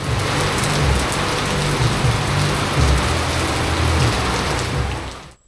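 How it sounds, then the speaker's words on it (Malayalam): Heavy rain pours steadily in Pattambi, a dense, loud, continuous hiss of drops on surfaces that holds without a break and then cuts off abruptly at the end. "പക്ഷേ നമ്മൾ ഇറങ്ങുമ്പോൾ നല്ല മഴയാണ് പട്ടാമ്പിയിൽ."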